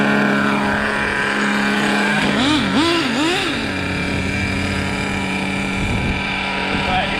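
HPI Savage nitro RC truck with a Big Block engine running steadily and loudly close by, its pitch rising and falling in a brief rev burst midway, with voices talking over it.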